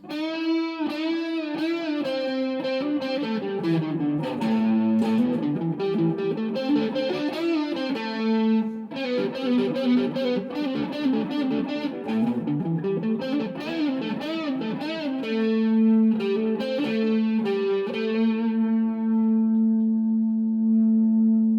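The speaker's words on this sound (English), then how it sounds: "Let's do a couple lead tones for you guys" An ESP LTD EC-256 electric guitar on its neck pickup plays a smooth, warm lead melody with sustained, bending notes and light distortion and echo, continuous and up close with no talking.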